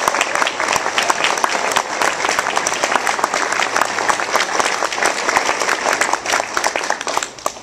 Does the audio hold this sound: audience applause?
yes